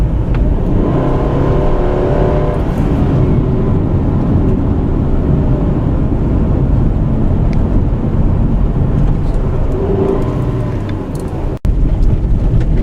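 A 2014 Subaru Outback 2.5i station wagon rolls over a rough washboard dirt road, a loud, constant low rumble of engine and tire noise from inside the cabin, with a brief clunk near the end.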